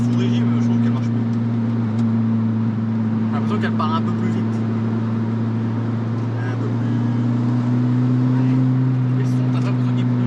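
A Volkswagen Golf 2 GTI engine drones steadily from inside the car while driving, a constant low hum holding through the whole stretch, with people talking over it.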